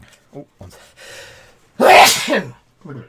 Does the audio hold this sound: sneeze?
yes